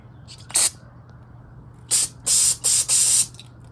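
Cleaner hisses from a spray nozzle onto a lawn mower being cleaned, first one short spray and then four close, loud bursts in quick succession over a faint low hum.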